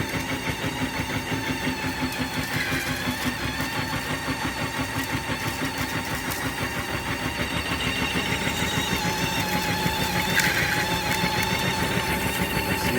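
A homemade 3D-printer filament spool rewinder is running at full speed, giving a steady, fast motor whir with a rapid rhythmic rattle that stays close and continuous and grows slightly louder toward the end.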